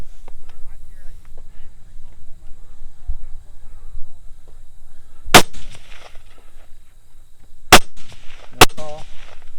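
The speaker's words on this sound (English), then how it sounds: "shooting offhand is never easy, especially when you're in an uncomfortable position sliding in the mud" Three sharp, loud rifle shots fired offhand by a shooter sliding in mud during a gunfighter stage, spaced a second or two apart over low outdoor rumble and faint background voices.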